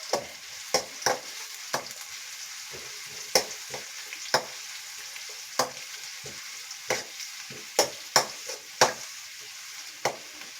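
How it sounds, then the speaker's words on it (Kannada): Onions fry in a pan for jackfruit seed chutney, a steady soft sizzle broken by sharp scrapes and taps of a spoon stirring at irregular intervals, close by with no talking. "ನಾನು ಚೆಂದ ಫ್ರೈ ಮಾಡ್ಕೋಬೇಕು."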